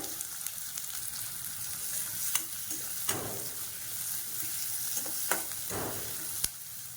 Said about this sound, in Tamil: இதில் வெங்காயம் வந்து சேர்த்துக்கிறேன் இந்த வெங்காயம் நல்லா வதங்கணும்